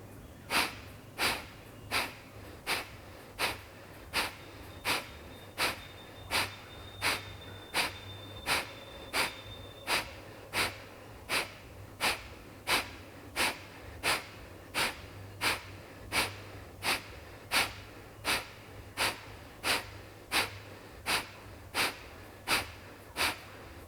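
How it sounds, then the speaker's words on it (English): Rapid, forceful rhythmic exhales of breath of fire yoga breathing, a steady train of sharp nasal puffs at roughly one per second, close and clear with no talking. "Inhale, breath of fire."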